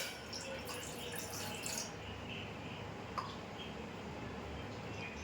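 A glass of water pours into a pan on a stove, a light splashing rush that lasts about two seconds, then fades into quiet room noise.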